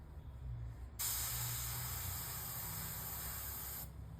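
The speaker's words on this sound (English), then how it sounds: "Test spray here and see how it looks." A steady, close hiss of Jacquard Pinata ink in Burro Brown being sprayed from an airbrush runs for about three seconds, starting and stopping abruptly against quiet room noise.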